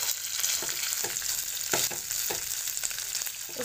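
Roughly broken boiled potatoes are fried in a pan for dosa stuffing, producing a loud, continuous close sizzle with repeated scraping stirs at an irregular rhythm.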